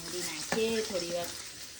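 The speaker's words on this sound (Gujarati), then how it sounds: "ડુંગળી શેકાઈ રહી છે આ બાજુ" Onion frying in a pan while making cheese Maggi noodles: a steady close sizzle with a brief stir clatter near the middle.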